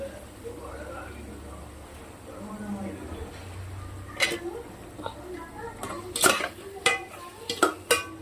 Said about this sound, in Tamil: கத்திரிக்காய் போட்டு நல்லா வதக்கிக்கலாம்.